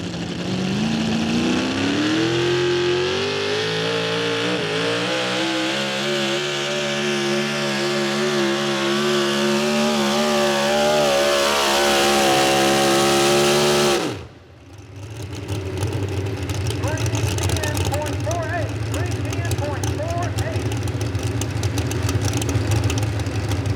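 Racing trucks howling around the Honky Tonk 300 track at Millers Tavern, a loud sustained engine whine climbing in pitch before cutting off abruptly, then a rougher, lower rumble of engines continuing near and steady.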